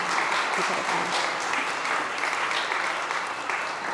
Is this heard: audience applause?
yes